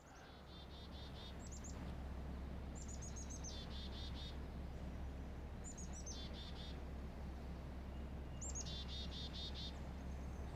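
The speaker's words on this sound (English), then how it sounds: "along comes a chickadee, black-capped chickadee" Black-capped chickadee calling from a branch overhead, a few faint, high descending whistled notes repeated in short groups over steady low outdoor hum and faint insect noise, no talking.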